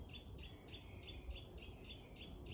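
Birds sing in a woodland glade, a repeated bright chirping phrase sounding about every quarter second, steady and moderately near over a low background rumble.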